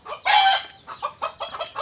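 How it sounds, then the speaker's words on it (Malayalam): Chickens and young chicks clucking close by, a loud burst followed by a run of short, choppy clucks and calls. "ഇതാ കോഴിക്കുട്ടികളൊക്കെ"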